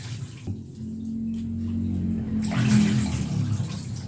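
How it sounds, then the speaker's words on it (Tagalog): Rice being washed by hand in water at home, a steady watery swishing that swells and grows louder partway through, close by and heard alone. "Dito ako maghuhugis ng bigas."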